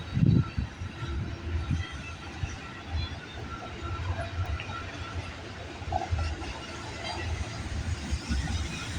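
A CN intermodal freight train, symbol A422 out of Port Robinson, rolls past in Milton, Ontario with a steady broad rumble of wheels and railcars, holding a continuous level with slight swells and no talk.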